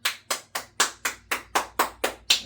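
Hand clapping during a podcast conversation: about ten sharp, evenly spaced claps from one person, close and loud, with a short decay after each and no speech between them.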